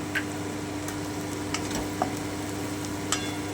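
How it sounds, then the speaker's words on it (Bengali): Onion and tomato fry in a pan for Kashmiri mutton kosha, a steady close sizzle with occasional scraping stirs, no voices. "আমি আরও একটুক্ষণ ভেজে নিচ্ছি"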